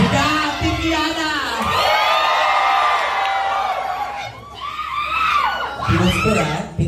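A drag race event crowd cheering and screaming for Team Khianna, loud and sustained with high shrieks and whoops layered over dense crowd noise, dipping briefly before surging again near the end.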